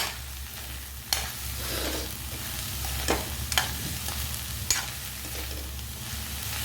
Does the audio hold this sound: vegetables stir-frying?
yes